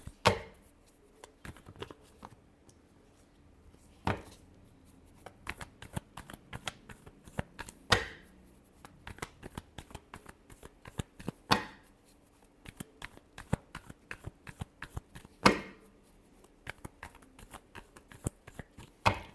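Tarot cards being shuffled by hand, close and crisp, with repeated riffling bursts and sharp slaps separated by brief pauses, no talking.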